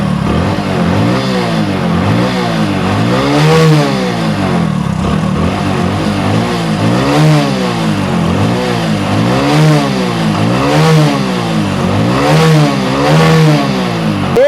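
A motorcycle engine running on pure petrol idles steadily and loud at close range, with a smooth, even rhythm and regular pulsing revs throughout and no misfiring.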